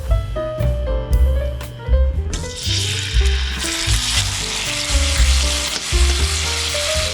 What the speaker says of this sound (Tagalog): Kailangan nating i-sear ang chicken.